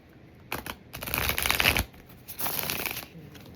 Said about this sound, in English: Finally get it shuffled and then the whole deck falls out of my hand.